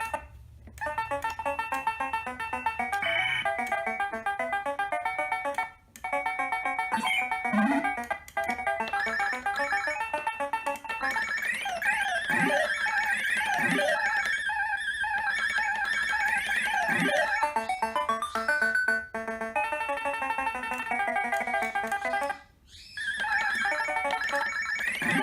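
A Pac-Man 40th anniversary Arcade1up Countercade plays its electronic arcade game music and chiptune effects continuously for a long stretch, loud and close, with brief gaps and no talk.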